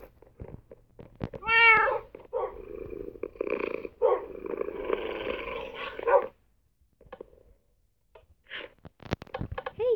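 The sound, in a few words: cat meowing in a video game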